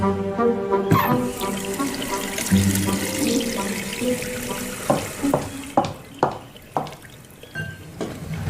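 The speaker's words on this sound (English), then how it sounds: "Please wash your hands." Water runs steadily from a tap into a sink as hands are washed beneath it, with splashing and several distinct knocks and clunks near the end, close by and without speech, in a thriller film scene.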